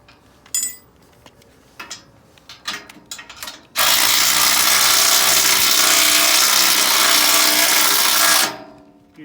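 Sparse ratchet clicks from tightening lock-washered bolts while assembling a personal trail groomer, followed by a long, loud, steady whirring rush that ends abruptly.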